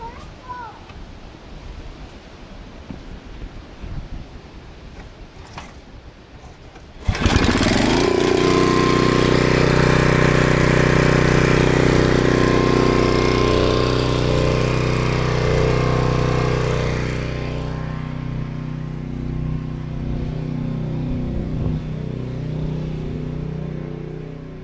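A generator engine, just refuelled with gas and oil checked, starts after some handling noises and then runs loudly and steadily, settling to a slightly lower drone near the end.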